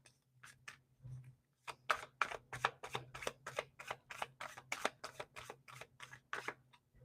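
A single tarot card drawn from a deck during a reading: a run of quick, crisp card flicks and shuffling snaps, fairly close and regular, over a low steady hum with no talking.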